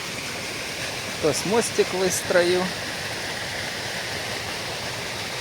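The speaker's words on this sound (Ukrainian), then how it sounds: "Класний водоспад з труби фігаче в нижній ставок." Water pours from a pipe into a lower pond at a reservoir, a steady, moderately loud rushing that continues evenly while someone speaks briefly over it.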